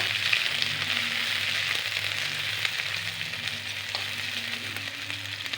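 Onions sizzle and fry steadily in a pan, a continuous crackling hiss with no voices, while cooking a bottle gourd leaf curry.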